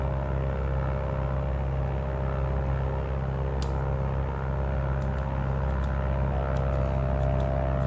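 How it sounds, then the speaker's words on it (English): A propeller plane in a VR flight simulator game drones steadily overhead, a constant low hum with a few faint clicks on top. "we got one VFR plane flying above us"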